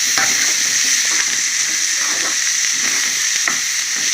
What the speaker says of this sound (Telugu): కొంచెం ఉల్లిపాయలు బాగా వేగనివ్వాలి ఇందులో పచ్చిమిరపకాయలు వేసుకున్నామండి ఇది అది కొంచెం వేగనివ్వాలి